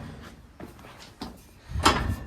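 The side door of a steel Arrowquip 74 series squeeze chute swings open on a ranch, with a few soft clunks and rattles and then a sharper metallic clang that rings briefly.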